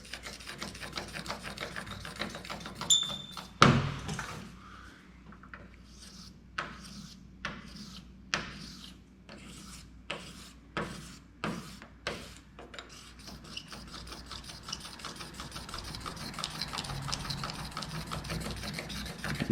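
Hand sanding block working over the clear coat on a Camaro Z28 to knock down high spots, a steady rasping scrub with a series of short rhythmic strokes after a sharp knock near the start.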